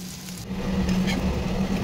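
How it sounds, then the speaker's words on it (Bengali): Pumpkin leaves sizzle steadily frying in a pan on low gas, a constant crackling hiss with a low hum underneath, no talking. "অনেকক্ষণ থেকে গ্যাস সিম করে দিয়ে ভাজতে হবে"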